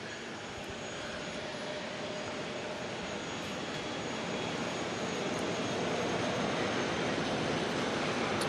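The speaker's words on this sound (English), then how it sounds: "ASL freighter heading on out" ASL freighter aircraft departing Auckland Airport at night, heard as a faint, distant jet hiss and rumble that swells gradually louder toward the end.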